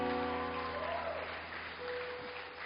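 Worshippers at a Catholic adoration gathering clap over sustained organ or keyboard tones, a fairly faint, diffuse patter of applause under the held chords.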